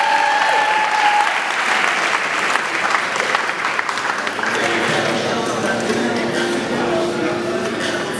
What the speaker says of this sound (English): Give him one big round of applause while he leaves.